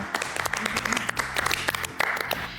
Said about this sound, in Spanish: Pues un aplauso para todos ellos y qué bonito.